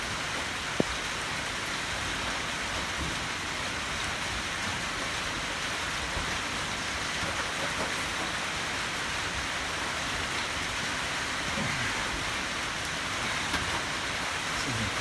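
Steady rain falling on a surface beside a VW Beetle during windshield work, a dense even hiss throughout with faint scattered drops and no speech.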